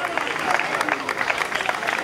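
Crowd applause for the Porto Venere women's rowing crew at a rowing palio prize-giving, a steady patter of many hands clapping at middle distance, mixed with background crowd noise.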